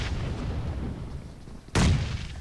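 A grenade blast in the PUBG Mobile battle royale game, a sudden loud boom that cuts in after a stretch of low game ambience and rumbles briefly before settling.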